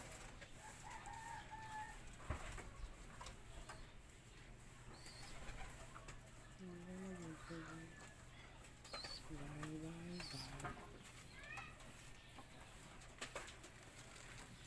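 Domestic pigeons, one with a swollen injured foot, coo softly at a distance in a pen amid background rustle and faint outdoor noise, with a few scattered clucking calls.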